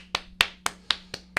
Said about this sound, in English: Quit clapping during the intro.